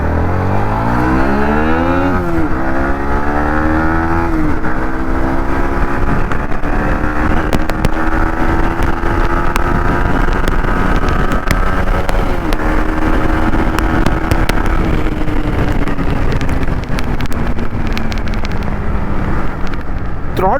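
A Yamaha MT-15 motorcycle engine is revved with the throttle, making a loud, steady drone that rises in pitch, holds, and then slowly sinks. Wind buffets the microphone throughout.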